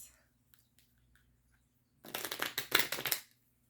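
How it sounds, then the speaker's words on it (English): A deck of tarot cards being shuffled up close, a quiet stretch with a few soft taps giving way to a brisk, crisp riffle of flicking card edges lasting about a second and a half, then stopping, with no voices. "I'm going to shuffle again."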